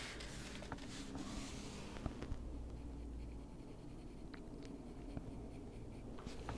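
Colored pencil strokes scratch steadily across paper during adult coloring with a medium brown pencil, a soft continuous scribbling texture with brief taps, close and alone without talk.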